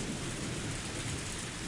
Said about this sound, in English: It was raining far too hard to see the moon.